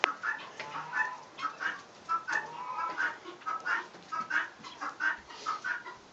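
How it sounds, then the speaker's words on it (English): Female guinea hen, a farmyard fowl, giving a steady run of repeated two-note calls at close range on a spring walk around the yard, about ten calls in six seconds, with faint background farm sounds and no talking. "That is a female guinea hen"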